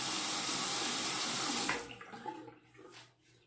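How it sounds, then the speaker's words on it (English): Tap water runs hard into a sink to wet a shaving razor, a loud steady gush that cuts off abruptly, leaving faint trickles and small splashes. "Let me wet the razor."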